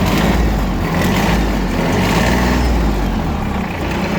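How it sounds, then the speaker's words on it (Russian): A used Mitsubishi MT155 mini tractor runs, its small diesel engine chugging loudly and evenly up close. The rumble stays constant with no voices. "Работает он также ровно."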